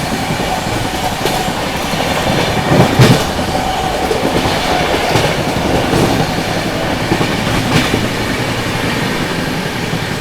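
The Brahmaputra Mail express train runs through Panki Dham station at speed, giving a loud, continuous roar with rhythmic clickety-clack of wheels over rail joints and rushing wind, with no voices.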